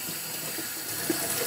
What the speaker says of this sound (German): Und jetzt fluten wir diesen Filter circa 30 Sekunden bis 1 Minute unter fließendem Wasser